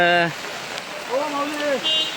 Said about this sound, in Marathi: हा पाऊस चालू झाला आहे